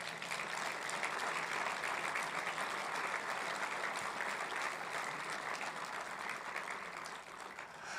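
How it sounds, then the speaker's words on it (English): An audience gives a sustained round of applause for a woman being thanked at a midweek renewal talk, dense steady clapping that fills the room for about eight seconds and tapers slightly at the end. "Please give her a round of applause."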